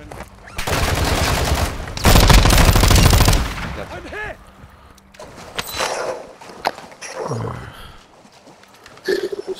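Gunfire erupts in Warzone 2.0 DMZ on PC, a dense burst of rapid automatic shots ringing out loud and close, followed by scattered sharper cracks and movement sounds, with a voice heard briefly.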